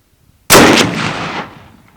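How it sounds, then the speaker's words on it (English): A single loud, close Ruger RPR .338 Lapua Magnum rifle shot fired at steel targets on an outdoor range in Wales, a sharp heavy crack followed by a long rolling echo that fades over about a second. "we're going to move out and shoot some steel at longer distance"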